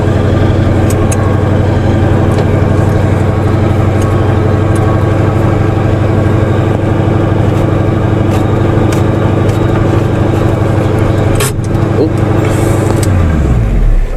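A car engine runs loudly and steadily throughout, an idle drone with a clutch that disengages but will not engage when shifted into gear, ending with a brief drop and rise near the end.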